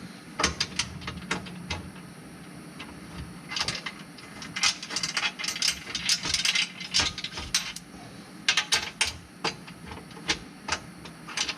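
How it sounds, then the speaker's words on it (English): Bolts are being tightened on the rear differential cover of a 2020 Subaru Crosstrek. Close, sharp metallic ratchet clicks come in quick irregular bursts, with a few clinks of metal parts and no talking. "once we get all 4 of them in, we're going to tighten them down"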